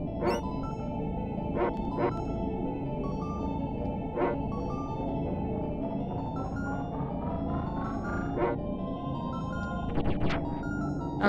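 Dog companion in the video game Secret of Evermore barking repeatedly, short high yips and barks scattered across the stretch over a dense droning game soundtrack with a rising synthetic tone.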